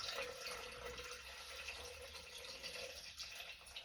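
Steady water runs into a Thermomix bowl as a litre is poured in, a soft continuous splashing trickle lasting throughout at low level, with no speech.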